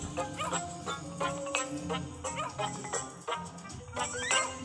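Electronic barks and yips from an angry dog in a video game repeat over layered game music and effects, fairly loud and busy, with no talking.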